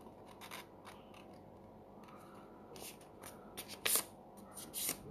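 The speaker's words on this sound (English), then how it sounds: "Two side fold, turn it back side and fold half." A sheet of paper folded in half gives soft, quiet rustling and rubbing, with a few sharper crinkling creases near the end and no talking.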